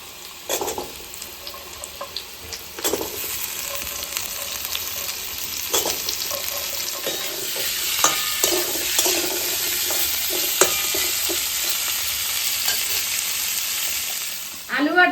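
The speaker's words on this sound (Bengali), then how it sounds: "আলু আর ডাটাগুলো কিন্তু আমার ভাজা হয়ে গেছে।" Potatoes and vegetable stalks sizzle steadily in hot oil while a utensil scrapes and stirs through them, with a few sharper clanks against the pan over the continuous close frying hiss.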